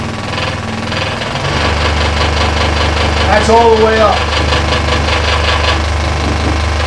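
A WEN 3922 scroll saw runs at full speed with a loose plastic piece vibrating, making a loud, steady buzzing drone with a rattling edge. Someone speaks briefly over it.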